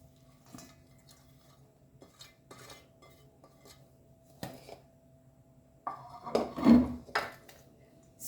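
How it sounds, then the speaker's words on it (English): Utensils clink and scrape against dishes as chopped cabbage and tomato salad for a Goan salad is moved into a bowl. The clatter is sparse at first, then turns into a louder burst of scraping and knocking near the end, with no talking. "So now we'll transfer all this in a bowl"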